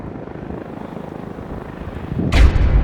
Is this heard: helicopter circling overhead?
yes